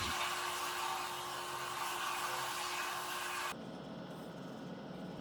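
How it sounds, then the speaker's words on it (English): A heat gun roars steadily as it heats the belly of a wooden Cherokee war bow, a continuous airy blower hiss with a faint whine, then drops abruptly to a lower, duller rush near the end. "Normally I'd cook the belly black with the heat gun, but this new heat gun just doesn't have quite as much watts as my last one"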